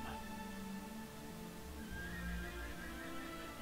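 A horse in the video game Kingdoms gives a clear, drawn-out whinny that rises and falls over a few seconds, heard alone without talk.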